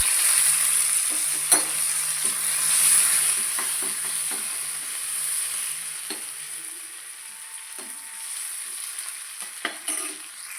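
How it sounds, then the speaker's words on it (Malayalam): Curry leaves hiss and crackle in hot coconut oil for a Kerala-style dal and tomato curry, a continuous close sizzle with occasional soft scrapes and knocks of stirring over roughly ten seconds. "ഇതിലേക്ക് കറിവേപ്പില ഇട്ട് കൊടുക്കാം."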